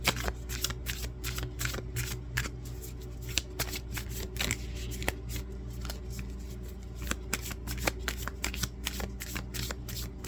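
Tarot cards being shuffled continuously for about ten seconds, a steady riffling patter punctuated by sharp snaps and slaps as the deck is cut and bridged, close and clear with no talking.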